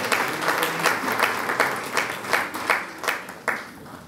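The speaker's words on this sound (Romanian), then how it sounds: "Haideți să-l aplaudăm" Audience applause at a Christmas show in Dărmănești honouring a local doctor: steady clapping from a crowd, with distinct accented peaks rising every half second or so across the whole stretch.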